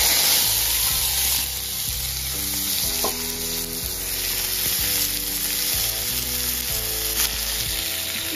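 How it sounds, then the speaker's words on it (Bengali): Vegetables frying in hot oil in a wok, a loud steady sizzle throughout with stirring scrapes and occasional clinks of a utensil, heard up close with no talking. "এখানে সবজিগুলো ভেজে নেব।"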